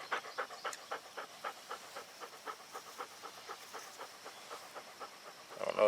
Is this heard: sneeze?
no